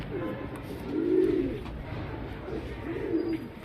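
A breeding pair of pigeons, a female and a male, cooing softly nearby in two slow, rolling bursts over quiet background.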